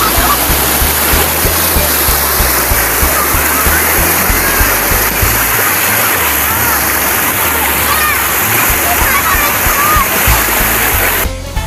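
A river flowing beneath San Antonio Bridge in Labo, Camarines Norte, makes a loud, steady rush of churning water, like a waterfall or rapids, broadband and continuous throughout with no voices.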